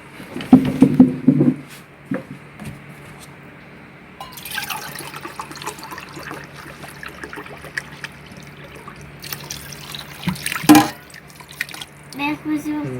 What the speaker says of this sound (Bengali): আরো হাফ কেজি দিয়ে দেবো আমরা পানি।